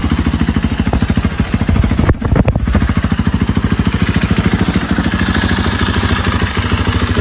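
A BMW G 450X enduro motorcycle engine runs loud and close, a rapid steady putter of an idling single-cylinder with a brief stumble early on.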